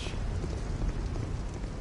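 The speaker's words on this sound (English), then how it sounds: "Walking in the wet rain." Steady rain falling in the video game Dark Souls 2, a soft continuous hiss of drops on a surface, faint and even throughout with no talk.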